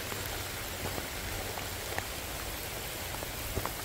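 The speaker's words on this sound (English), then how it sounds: "Oh, I like seeing the rain on the lake." Steady hiss of rain falling across a lake, with occasional soft drip sounds standing out from the even wash.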